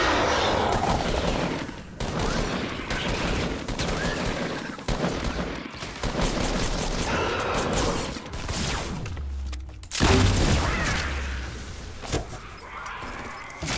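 Dense, continuous gunfire from a Fortnite battle royale match with an assault rifle, loud and sustained throughout with crashes and impacts layered in, plus a sharp heavier burst near the ten-second mark.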